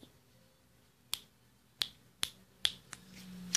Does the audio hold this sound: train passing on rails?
no